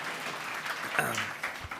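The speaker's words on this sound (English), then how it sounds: "Why don't you give yourself a round of applause for all the great speakers" Audience clapping at a corporate speaking event, a soft, even patter of many hands, fairly distant and quiet, continuing steadily.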